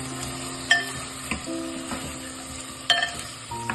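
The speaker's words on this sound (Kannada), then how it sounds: "ಈರುಳ್ಳಿ ಮತ್ತು ಕರಿಬೇವಿನ ಸೊಪ್ಪು ಇದಿಷ್ಟು ಒಗ್ಗರಣೆಗೆ ಹಾಕ್ಕೊಂಡು ಕಟ್ ಮಾಡಿ ಇಟ್ಕೊಂಡಿರೋಂಥ ಮೂಲಂಗಿನೂ ಕೂಡ ಹಾಕಿ ಒಂದು 5 ನಿಮಿಷ ಫ್ರೈ ಮಾಡ್ತೀನಿ" Radish pieces fry with onion and curry leaves for a sambar tempering, a steady close sizzle broken by several sharp clinks and scrapes of a spoon stirring against the pan, with no voices.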